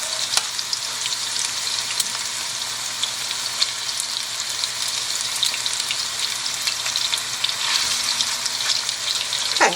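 Beef stew meat sizzles steadily as it browns in a hot pan, a dense continuous frying crackle with scattered sharp pops, close and loud with no talking.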